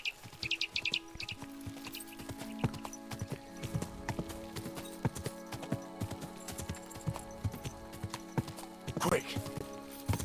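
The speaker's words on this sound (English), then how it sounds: "Horse, come to me." Horse hooves clip-clop at a steady galloping rhythm in Kingdom Come: Deliverance II, close and continuous over ambient birdsong, with a brief neigh and someone speaking over it.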